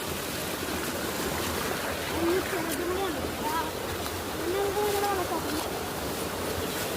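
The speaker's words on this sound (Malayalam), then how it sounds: "ഇതാണ് നമ്മുടെ വെള്ളച്ചാട്ടം." A small waterfall gives off a steady, close rush of splashing water throughout, while a person talks over it.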